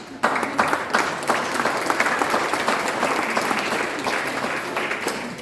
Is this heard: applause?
yes